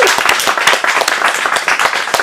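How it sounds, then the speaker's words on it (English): Dense audience applause fills a room at an adult acting-studio script showcase in Phoenix, a steady, close wash of many hands clapping throughout with no pauses. "Give yourselves a round of applause."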